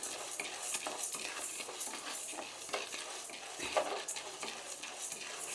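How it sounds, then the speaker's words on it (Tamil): Urad dal and chana dal dry roasted together in a pan for kulambu milagai powder, a soft, steady rustle of stirring with dry grainy scrapes, quiet and continuous, with no talking. "அப்புறம் உளுத்தம்பருப்பு, கடலைப்பருப்பு நான் மூணையும் ஒன்றாவே போட்டு வறுத்துக்கிறேங்க."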